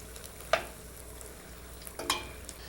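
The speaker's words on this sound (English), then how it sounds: "Lovely sound of swishing and crackling when the deep frying goes on." Faint, steady sizzling of oil deep frying in a wok, with a couple of sharp crackles and pops standing out, quiet and close, with no voices.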